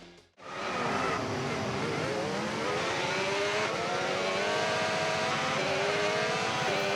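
F1 cars on a formation lap in a racing video game at the Texas circuit, a continuous loud engine drone with rising and falling revs after a brief quiet start.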